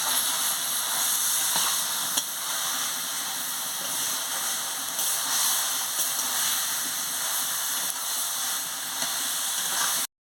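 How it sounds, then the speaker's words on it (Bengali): Spinach (pui shak) stir-frying in a pan, a continuous even hissing sizzle lasting ten seconds with faint occasional clicks of stirring, steady and close. "নাড়িয়ে নিচ্ছি দিয়ে ভালো করে কষিয়ে নিচ্ছি"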